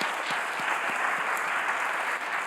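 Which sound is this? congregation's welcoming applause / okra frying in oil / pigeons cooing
congregation's welcoming applause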